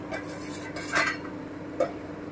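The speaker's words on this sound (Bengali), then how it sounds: "এবারে আমি একটু ঢাকা দিয়ে দিচ্ছি" A metal lid is set onto a cooking pot of simmering pointed gourd and moong on a gas stove at medium heat, giving a brief clink and a second short clatter over a quiet kitchen background hum.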